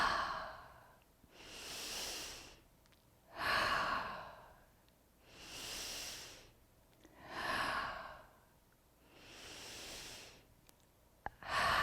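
Slow, deep breaths are drawn in and let out during an energy routine exercise, about five long cycles heard close and alone, with quiet pauses between them.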